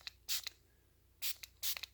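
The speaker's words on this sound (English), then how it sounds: "I spray my top of my plants" A handheld spray bottle misting water over the tops of hydroponically regrown vegetable plants, giving three short hissing bursts, each followed by quicker small puffs, close and fairly quiet with no talking.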